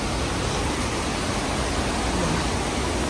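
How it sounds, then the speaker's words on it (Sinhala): Bomburu Ella waterfall in Sri Lanka roars after heavy rain, a loud, steady, broadband rush of falling water that stays constant and close throughout, with no voices. "මාරම වතුර පාරක් තියෙන්නේ"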